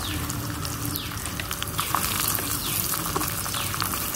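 Curry leaves frying in a miniature toy clay pot during children's play cooking, with onion and popped mustard seeds, giving a steady close crackling sizzle with scattered pops throughout.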